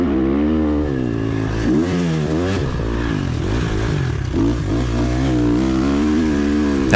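A dirt bike on a Florida motocross track revs hard and drops through the gears. Its engine pitch climbs and falls in repeated sweeps, loud and close, and no one speaks.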